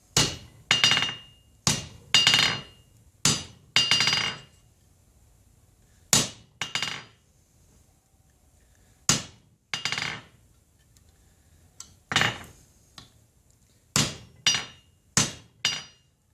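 Close, sharp hammer blows on silver being forged into a ring on an anvil, struck in quick clusters of two or three with ringing metallic tails and pauses between sets.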